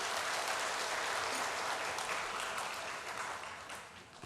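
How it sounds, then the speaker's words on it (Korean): A church congregation at a Parents' Sunday service gives a sustained round of clapping. The dense applause holds steady for several seconds, then begins to thin and fade toward the end. "여러분 다시 한번 우리 성현네 가정과 정환이에게 박수 한번 주십시오"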